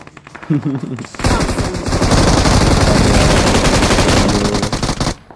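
A brief voice is followed by a long, rapid burst of M249 machine-gun fire in a video game on the Livik map, loud and continuous for several seconds before cutting off.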